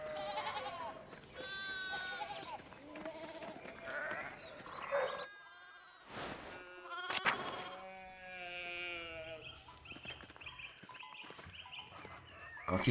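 A flock of sheep bleats in the medieval setting of the game Pentiment, with many overlapping calls and a brief quiet gap midway before louder, drawn-out bleats return.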